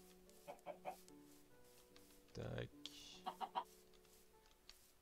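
Small Minecraft chickens cluck softly in short bursts, with a brief loud electronic tone in the middle and a quiet spoken word.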